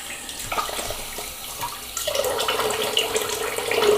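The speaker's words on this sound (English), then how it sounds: "So let me go and rinse off." A bathroom tap runs into a sink while a face is rinsed after a wet shave: close, steady splashing water that grows fuller and louder midway, with uneven splashes on top and no voices.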